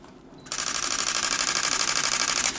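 Canon EOS R10 mirrorless camera firing a rapid burst of shutter clicks, a dense, even machine-gun rattle that starts abruptly after a brief quiet and runs steadily and close for about two seconds.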